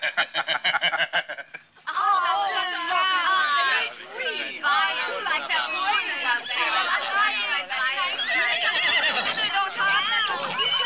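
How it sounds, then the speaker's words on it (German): Horses neigh and whinny loudly and repeatedly at close range, overlapping calls with a rising and falling pitch, after a short burst of chatter from people at the start. "Oh, da sind ja die Pferde."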